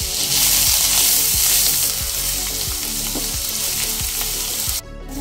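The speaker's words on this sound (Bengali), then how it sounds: "হালকা সোনালি রং ধরে আসা পর্যন্ত নেড়ে চেড়ে ভেজে নিয়েছি।" Chopped onion fries in hot oil with garlic and ginger, a loud constant sizzle with rhythmic scraping stirs throughout.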